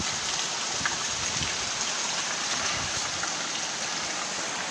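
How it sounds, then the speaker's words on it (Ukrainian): Torrential downpour hissing steadily and densely, a continuous close wash of heavy rain with no pauses and no voices. "Ще потопний дощ."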